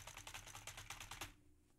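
Rapid, hard keystrokes clatter on a computer keyboard, recorded through a Tonor TC-20 XLR microphone directly above it, close and loud, in a steady burst that stops abruptly, leaving near silence.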